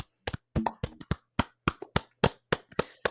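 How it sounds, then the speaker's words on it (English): Several people clap their hands for Landon in short uneven bursts, close by and fairly loud, with sharp separate smacks rather than a continuous roar. "We'll clap it up for Landon"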